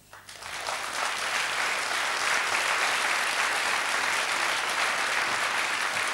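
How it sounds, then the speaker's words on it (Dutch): Sustained TV studio audience applause from the 1983 Frank Kramer Show, rising quickly from a quiet start into a steady, full wash of many hands clapping that holds evenly for several seconds. "Dames en heren, ik vraag een applaus voor Frank van Meteren."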